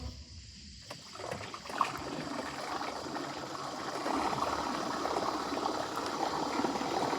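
A boat motor dropped into a pond churns the water in a continuous, close rushing wash that builds after a brief quieter start, with no speech.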